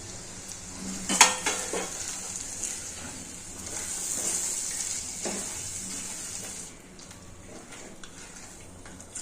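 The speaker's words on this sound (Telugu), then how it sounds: "టమాటా మామిడికాయ బాగా నూనెలో మగ్గాలండి." Tomato and raw mango cook down in oil for a tomato chutney, giving a soft, low sizzle. A sharp utensil clink and a few faint stirring scrapes sound against a quiet background.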